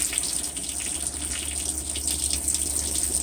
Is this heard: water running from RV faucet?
yes